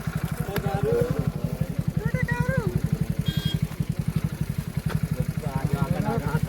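Motorcycles ride in a group on the road to Ambaji, a steady throbbing engine drone with rapid regular pulses throughout, close and continuous, with someone talking over it at times.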